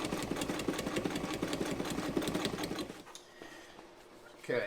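A Frister & Rossmann 35 sewing machine modified for heavy-duty work stitches through two layers of fabric in a fast, even mechanical chatter for about three seconds, then stops, leaving quiet handling noise.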